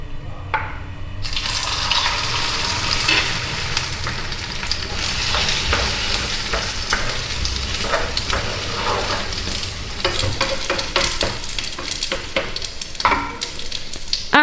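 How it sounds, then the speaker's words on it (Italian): A pasta frittata mixture lands in hot oil in a pan and sizzles loudly and continuously, with scraping and stirring from a utensil breaking through the crackle. "Diventato caldo l'olio, mettiamo metà del composto in padella."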